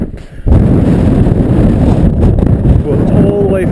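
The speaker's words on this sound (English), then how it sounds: "Look how windy it is." Strong wind on a Scottish Munro mountain top roars and buffets the microphone in a loud, continuous low rumble that barely lets up.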